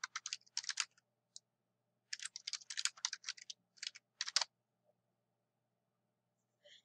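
Keys on a computer keyboard tap out quick bursts of typing separated by short pauses, close and crisp against a quiet room.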